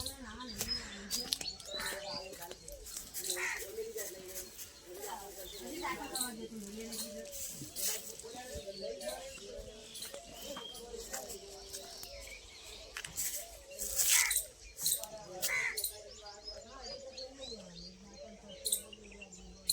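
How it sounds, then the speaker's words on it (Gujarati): Small birds chirp and tweet in scattered bursts over steady morning outdoor ambience, with people talking intermittently in the background. "તો ગાઈસ હવારમાં પક્ષીનો અવાજ આવે."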